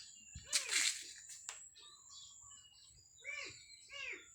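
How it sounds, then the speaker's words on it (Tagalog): Birds chirp in short, clear calls on a quiet calamansi farm, a couple of bright phrases near the start and two more rising calls toward the end, fairly close over faint background hiss. "Tanging naririnig ko lang dito yung pusa at saka yung mga ibon."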